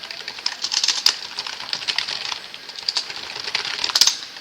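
Quick, light clicking keystrokes on a computer keyboard, tapped in irregular bursts as a short line of text is typed, close and fairly quiet with no voices.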